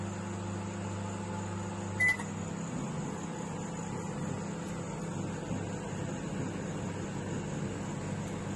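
An IFG microwave oven runs in convection grill mode while cooking grill chicken, giving a steady low electrical hum and fan drone with one short beep early on and no talk.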